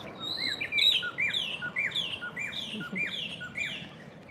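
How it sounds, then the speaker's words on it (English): Birds sing in repeated bright, clear phrases, a steady series of chirps and whistles close by over low outdoor background noise. "Just to hear the birds sing, it's really"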